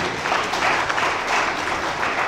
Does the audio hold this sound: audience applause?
yes